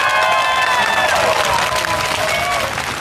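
A large outdoor crowd at a Thai political protest rally applauds and cheers, a dense, continuous wash of clapping with whistle-like tones on top, loud and close.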